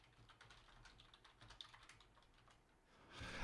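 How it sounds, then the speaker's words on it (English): Quick, irregular clatter of keys on a computer keyboard, fairly close and fairly soft, running steadily with no voices before a louder burst of broadband noise at the very end. "As my typing is horrible."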